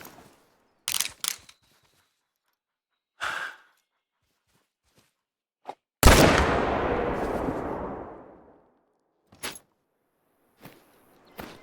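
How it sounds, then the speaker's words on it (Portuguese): A single loud rifle gunshot in the hunting game Call of the Wild, a sharp crack with a long rolling echo that fades over about two seconds, set among a few quiet clicks and soft handling sounds. "Dá um tiro daqui lá já."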